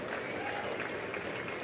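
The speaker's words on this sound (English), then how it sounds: "Get everybody to start clapping some more." A short burst of dense, sustained clapping from a large crowd in the chamber of Congress at the 2020 State of the Union, even and unbroken throughout.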